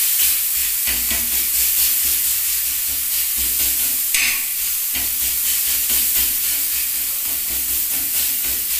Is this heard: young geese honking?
no